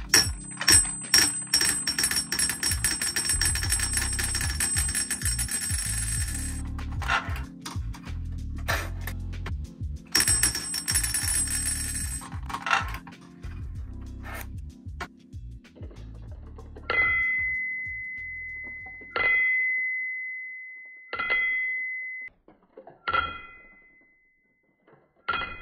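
Balls clatter and rattle through a handmade ball machine in dense, busy bursts, then a stopper rod releases them and several separate balls drop and bounce with ringing clicks that fade after each impact.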